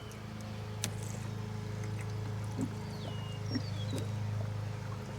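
Water running down a pipe into a chicken coop waterer, a faint, steady trickle with soft bubbling and occasional gurgles and knocks, heard alone at low level.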